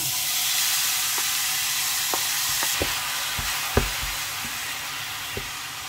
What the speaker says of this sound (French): Je vais mettre un petit peu l'huile tournesol et je verse tout pour faire cuire.